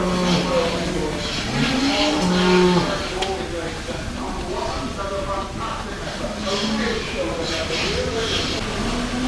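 Cattle at a livestock sale day, recently bought and about to be turned out to field, low moos rising over a busy barn murmur with people talking nearby.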